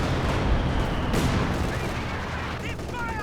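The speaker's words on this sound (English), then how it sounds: "Some MG on the flank, really shutting down the angry Dutchman." Machine gun fire in a Company of Heroes 2 match, a dense sustained rattle of automatic bursts with battle noise, loud and continuous throughout with a brief rising whine near the end.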